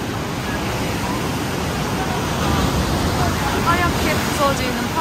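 Strong sea waves crash against the rocky shore at Yeonggeumjeong in Sokcho, a continuous loud roar of surf with surging swells and spray, close by and without voices.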